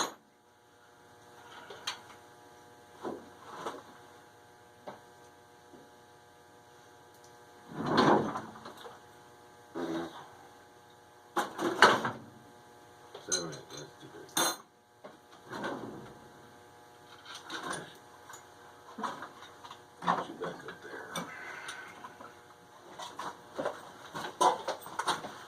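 Someone rummages through tools in a woodworking workshop, searching for a wrench: scattered metallic clanks, scrapes and knocks come in irregular bursts over a steady electrical hum, close by and fairly quiet.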